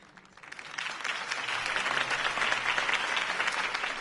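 Audience applause after a Harvey Dent campaign speech, rising over the first half second into a steady, dense wash of clapping from a sizable crowd that holds for several seconds.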